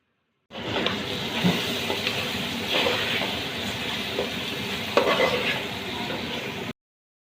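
Ginger garlic paste and ground spices are stirred and fried in a pan for a chicken masala curry with raw papaya, giving a steady close sizzle broken by the scrape and knock of a stirring spoon.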